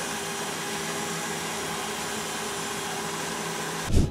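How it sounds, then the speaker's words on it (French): An electric beater whips egg whites with sugar into a firm meringue, a loud steady motor whine held evenly before a short knock at the end. "j'attaque mes blancs d'œufs au batteur"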